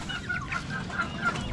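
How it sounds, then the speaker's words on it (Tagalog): Hungry chickens cluck steadily while pecking at leftover feed on a backyard fowl farm, repeated short calls overlapping at close range against a constant low background rumble. "Kinakain na nila yung natira kanina. Hindi ko natanggal eh. Gutom na sila, oh."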